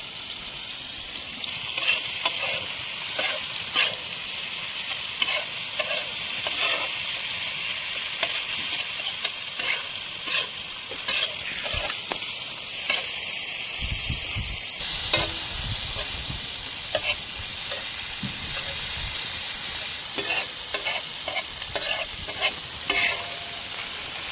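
Prawns for ghee roast frying in a pan with green chili paste, garlic paste and salt, a constant sizzle broken by repeated scraping stirs of the spoon, close and without talk.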